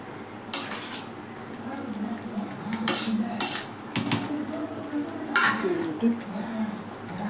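Rice being stirred in a pot of mutton biryani, with a metal spoon scraping and clinking against the vessel in irregular bursts over a soft background bubble.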